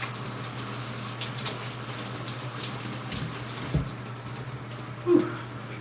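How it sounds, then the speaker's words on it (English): Tap water runs in a steady, close hiss as hands are rinsed under it. A couple of brief splashes or knocks stand out near the end. "I'm gonna rinse my hands"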